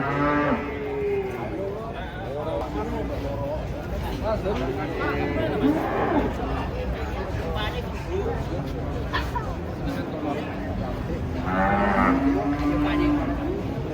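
Cattle moo repeatedly as they come off a truck, long drawn-out lowing calls rising over a steady background of people chatting and murmuring nearby.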